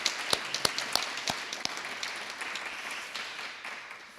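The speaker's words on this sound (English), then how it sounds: "How about a round of applause for them?" An audience at a writers' day event gives applause: a few loud separate claps open it, then it settles into a softer, thinning patter that fades toward the end.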